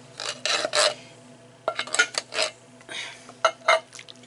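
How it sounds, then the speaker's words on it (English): Peas going into a casserole dish for au gratin potatoes with ham, a run of clinks and scrapes of a utensil against the dish in separate bursts, close and fairly quiet, with no talk. "so I'm putting the peas in here now"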